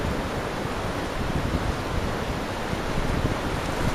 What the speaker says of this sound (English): If it wasn't for the wind, it wouldn't be bad at all.